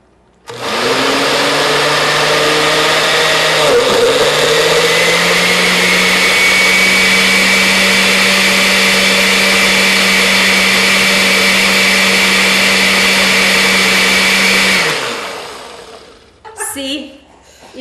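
A home-style blender whirs loudly and steadily while mixing a soda drink recipe, its motor pitch shifting slightly partway through before it winds down; people talk briefly afterward.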